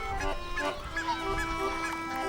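Greylag geese honk repeatedly in a steady series of calls, several birds overlapping at close to moderate range over a low background rumble.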